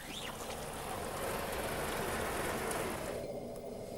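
Steady, dense hiss of rain falling on a surface, loud and continuous, easing slightly toward the end.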